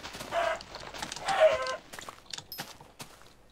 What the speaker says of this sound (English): Come on, have a chicken.